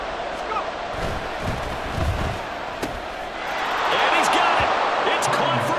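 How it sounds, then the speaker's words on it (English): A stadium crowd in the video game Madden NFL 24, a broad roar that swells louder toward the end, with thuds and clatter mixed in and voices talking over it. "this crowd's going to get even louder"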